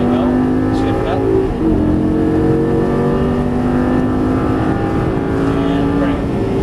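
Lamborghini Gallardo engine revving hard from inside the cabin, pitch climbing under throttle, briefly dipping at a gearshift around the middle, then rising again; loud and continuous with a driving instructor's voice over it.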